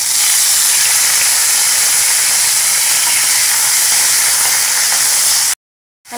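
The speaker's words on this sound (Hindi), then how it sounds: "सबसे पहले कढ़ाई में हम ऑयल डालेंगे, हल्का सा साबुत जीरा ऐड कर देंगे और अब पनीर के पीस को ऐड करेंगे।" Paneer pieces sizzle and spit loudly in hot oil with whole cumin in a kadhai, a dense, steady frying hiss held up close before cutting out suddenly.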